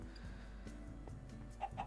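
A chicken in Minecraft Sky Factory 2 gives a couple of faint short clucks near the end, over a low steady background hum and soft clicks.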